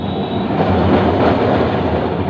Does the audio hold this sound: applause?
no